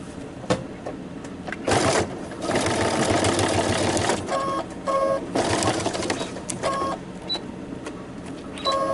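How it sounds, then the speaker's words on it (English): Sewing machine back stitching a zipper into a fur pillow, its motor whirring in short stop-start bursts as the stitching reverses and runs forward again, close and steady with pauses between runs. "Then I'm going to back stitch, then come forward to the line and stop and change the setting on my machine"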